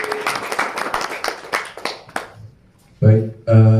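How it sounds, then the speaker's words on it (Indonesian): Brief, lively clapping from a small audience at an informal hotel gathering after a magic act, dying away after about two seconds before loud voices break in. "Tepuk tangan."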